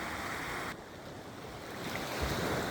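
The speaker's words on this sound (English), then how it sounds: "It's pretty calming, isn't it, the sound of the sea?" Sea surf washes steadily onto a shore, a dense continuous roar of breaking waves with some wind noise on the microphone, and no voices.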